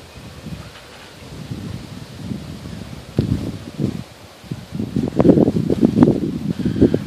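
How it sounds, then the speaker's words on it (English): Gusty wind buffets outdoors by a dug creek, rising and falling in uneven blasts that grow stronger toward the end, with rustling mixed in. "Nice, beautiful, windy day."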